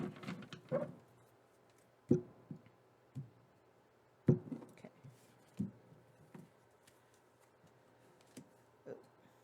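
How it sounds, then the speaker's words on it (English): Soft tarot card handling: a series of brief shuffling and tapping bursts spaced a couple of seconds apart, faint and close. "I already started shuffling the cards"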